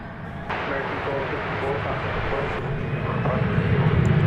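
A large jet airliner at DFW Airport produces a steady, building engine roar that grows louder and deeper toward the end, with a few sharp bumps along the way.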